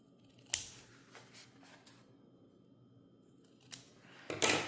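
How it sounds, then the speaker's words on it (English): Scissors snip the fabric corners of a sewn travel bag in a few quiet, close cuts spread apart, with one more crisp snip at the end and no talking. "Okay, now we're going to cut our corners."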